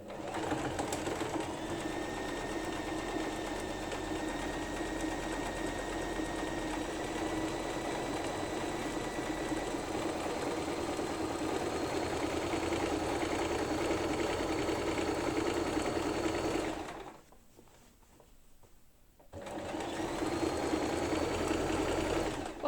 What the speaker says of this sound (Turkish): Ağız kısmına sadece zikzak geçeceğim. Zikzak ayarına getirdim.